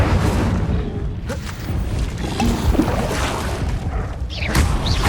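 Spell-casting effects from the Hogwarts Legacy video game, including the Incendio fire spell, come as dense whooshing bursts and booming impacts over a continuous, full game soundscape, with no speech.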